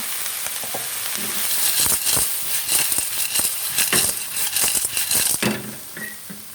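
River snails cook in a pan while a spoon stirs them, producing a steady frying sizzle broken by repeated sharp clicks and clatters of shells and spoon against the pan, close and fairly loud.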